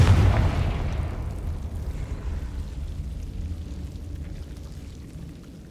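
A fiery Confringo spell blast in the video game Hogwarts Legacy: one sharp, loud boom that rolls out into a long, slowly fading rumble, heard alone.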